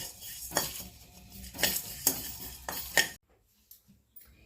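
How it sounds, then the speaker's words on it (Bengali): Whole black peppercorns dry-roasting in a pan are stirred in four scraping bursts, each with a faint rattle of spice against metal, followed by near silence with a few soft taps at the end. "আর 15টা মতন গোলমরিচ, গোটা গোলমরিচ দিয়ে ভালো করে নাড়িয়ে একটু গরম হয়ে যাবে"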